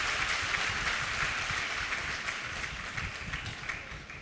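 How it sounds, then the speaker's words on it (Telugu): A congregation at an anointing worship service in Ongole claps loudly, a dense, sustained burst of hand clapping that fills the whole stretch at steady volume. "గట్టిగా చప్పట్లు కొట్టి మనం ప్రభువుని స్తుతిద్దాం"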